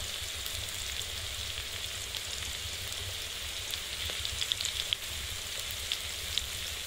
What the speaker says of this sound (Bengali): আর এই যে মাছ নুন হলুদ মাছ মেখে রাখা হয়েছে, এগুলো ভাজা হবে